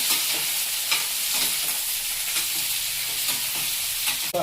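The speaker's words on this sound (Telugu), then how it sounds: "టమాటాలు పచ్చిమిర్చి బాగా వేగాలి" Tomatoes and green chillies frying in a pan for a village-style ivy gourd chutney, producing a loud, dense, continuous hiss of sizzling oil with faint stirring pulses.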